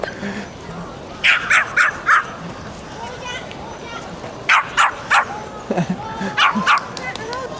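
A small fluffy white dog barks in bursts of short yips on a busy Harajuku street in Tokyo on a cherry blossom day, with people talking around it.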